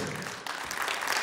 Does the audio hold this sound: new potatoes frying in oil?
no